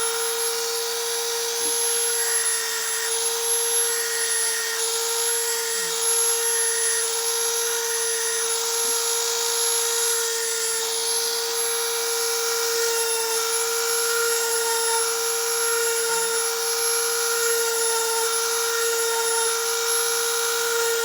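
A steady high-pitched whine of a small rotary tool carving wood, grinding continuously, with faint scratchy texture as the bit works, close and constant throughout.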